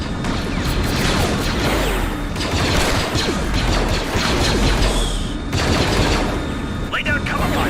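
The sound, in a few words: blaster gunfire in a Star Wars video game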